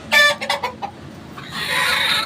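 A broody hen gives a few close, throaty clucks in quick succession, followed by a soft, breathy rustling.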